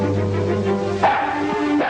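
A dog aboard a ship gives short yips and whimpering barks, close and fairly loud, over a steady low tonal hum.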